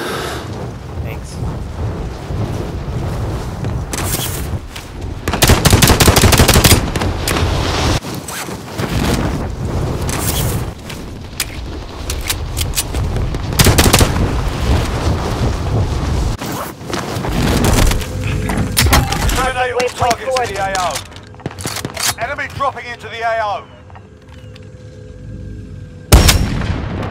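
Bursts of gunfire from the shooter game Warzone, loud and repeated in clustered volleys with heavy booming impacts, mixed with game effects and people talking over the action.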